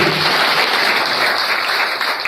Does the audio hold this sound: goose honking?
no